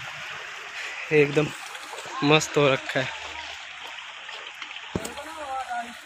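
A mountain stream in Uttarakhand rushes steadily in the background, a continuous watery hiss under someone speaking nearby.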